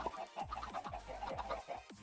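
Chickens clucking in Minecraft, short repeated clucks and squawks in quick succession, fairly quiet and close, with no talking over them.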